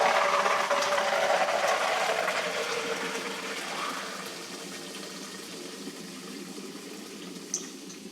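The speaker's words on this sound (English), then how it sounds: "we're gonna fill this with fresh water" Fresh water runs into a pot of black beans, a loud, steady gushing at first that gradually softens and deepens as the pot fills, with a small clink near the end.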